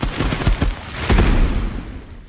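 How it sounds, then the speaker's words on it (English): A stun grenade ability going off in the video game Ignition Prime, a loud burst of crackling blasts and rumbling pops that fades out over about two seconds. "Next, I'm going to show you guys the stun grenade."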